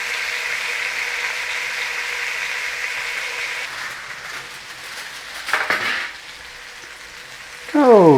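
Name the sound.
beef medallions searing in a pan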